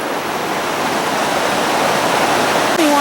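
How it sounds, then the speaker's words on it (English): The Blue River, running wide past a campsite, gives off a close, steady broadband rush of flowing water, with a brief faint tonal sound near the end. "River gets pretty wide here."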